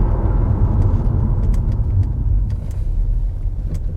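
An Audi RS2's straight-five turbo engine with a Miltech exhaust rumbles deep and steady while driving, a loud continuous burbling drone with faint ticks above it and no talking.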